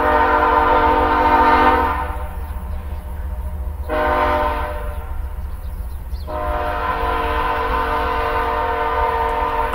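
A train passes close by, its rumbling wheels steady under three long, loud horn blasts separated by short gaps, the last blast running to the end.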